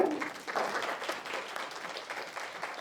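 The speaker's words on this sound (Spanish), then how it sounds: "Un aplauso, por favor." An audience applauds a lecturer after a talk on horizontal property in Colombia, a brief spell of steady clapping from a modest crowd, fairly soft and even throughout.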